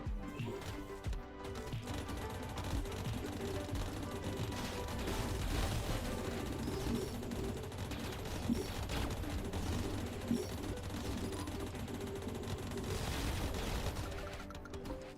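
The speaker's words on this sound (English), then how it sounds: "I haven't even upgraded lasers and they fucking go burr" Laser weapons in the video game New World fire in a dense, sustained rapid burst, a loud continuous stream of shots with booming impacts running the whole way through.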